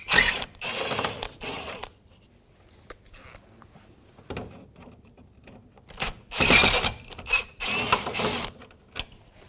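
Phillips head screws are backed out from under the grille of a 2006-10 Volkswagen Jetta with a ratcheting driver, giving bursts of rapid mechanical clicking and whirring, close up, separated by brief pauses and with no talk.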